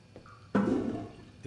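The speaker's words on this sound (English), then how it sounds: "Flush your shit." A toilet flushes in a grimy bathroom in the video game Fahrenheit: Indigo Prophecy, a sudden loud rush of water that starts after a faint click and fades slowly over about a second.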